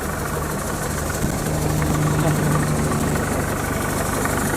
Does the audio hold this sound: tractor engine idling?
yes